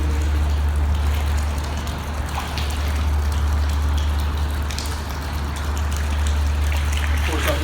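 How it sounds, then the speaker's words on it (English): Groundwater springs through sand at a joint into a 96-inch flexible pipe, giving a steady close trickling, gushing wash over a constant low hum inside the pipe. "you can see a pretty good spring of water"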